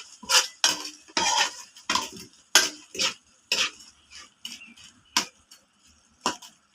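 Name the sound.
cooking butter garlic prawns, utensils clinking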